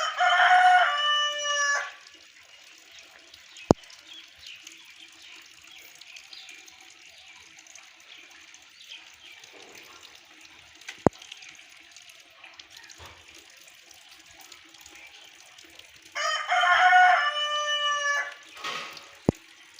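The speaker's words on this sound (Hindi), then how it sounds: "तो ये है जी, अभी बस हमारा नया मुर्गा हमने रखा हुआ है।" A rooster crows loudly and close by, once at the start and again near the end, with quiet background between the two calls.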